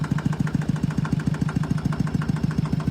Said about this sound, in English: Idles along pretty quietly.